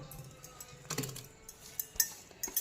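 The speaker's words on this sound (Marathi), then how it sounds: "आता ते आपण पिठामध्ये मिक्स करू" A spoon mixes finely ground jaggery and coconut paste into flour in a dish for bhanoli, producing soft scraping and light clinks against the dish, irregular and fairly quiet, with no voices.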